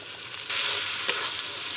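Turmeric and dried red chili powder sizzling and frying in hot oil as a spice masala for a desi chicken curry, a steady close hiss that grows louder partway through with a brief sharper crackle, no talking.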